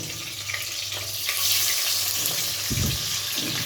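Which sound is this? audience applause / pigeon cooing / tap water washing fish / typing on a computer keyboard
tap water washing fish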